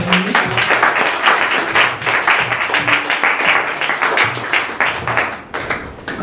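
A church congregation claps together after the preacher calls on them to acclaim the Lord during a French-language sermon, producing dense, steady applause that fills the room for several seconds.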